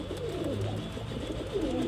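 A pair of pigeons, a male and a female, coo softly and continuously in low rolling phrases, close and fairly quiet, with no talking over them.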